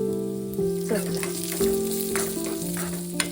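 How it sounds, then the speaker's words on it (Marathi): Dry fruits and nuts fry in half a spoon of ghee, a soft continuous sizzle broken by several scraping stirs and one sharp clink near the end. "त्यामध्ये मी घालते अर्धा चमचा तूप करूया आपले ड्रायफ्रुट्स नट्सना आपण थोडंसं परतून घेतल्याने"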